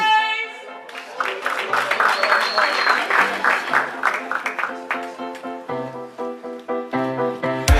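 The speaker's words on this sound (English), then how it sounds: "give us a round of applause" An audience at a show breaks into applause, a burst of clapping that swells and then fades as tonal music begins to play.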